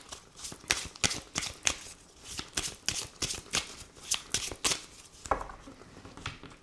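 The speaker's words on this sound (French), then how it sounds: "je vais faire un tirage en 9 cartes pour voir un petit peu ce qui ressort" Tarot cards shuffled by hand for a nine-card spread, a close, crisp run of rhythmic riffling slaps and flicks in quick bursts, ending with a softer sliding draw.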